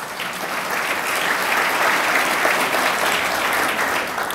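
Applause from the audience at the Orlando mayor's State of the City address, a dense, sustained roar of many hands clapping that swells slightly in the middle and stays loud to the end.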